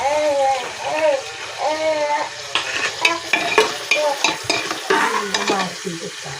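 Cardamom, cinnamon and mustard seeds fry in hot oil with a busy crackle, while a spoon stirs and scrapes the pan in quick strokes; a voice is briefly heard near the start.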